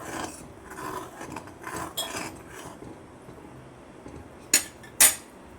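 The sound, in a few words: stirring egg curry in a pot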